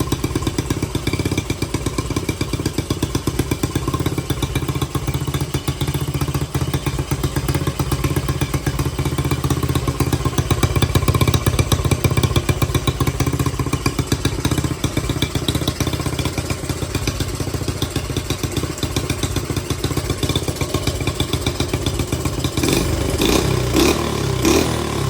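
A motorcycle engine running on oxygenated fuel, a steady close-up rumble with a fast, clattering idle pulse lasting around twenty-five seconds, swelling slightly mid-way and picking up a few blips near the end.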